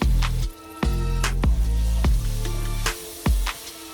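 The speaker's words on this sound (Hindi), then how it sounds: "अब इसमें जो टमाटर हैं वो भी डाल देती हूँ" Tomatoes going into bhindi masala cooking in a pan, dhaba style: a run of soft, wet squelching and stirring hits, about one every half second, close up and fairly loud over a steady frying hiss, with no talking.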